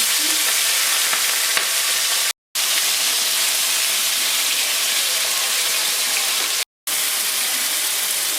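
Prawns fry in a pan of hot oil with a steady, loud, dense sizzle and hiss that runs throughout, broken by two very brief dropouts, with no talking.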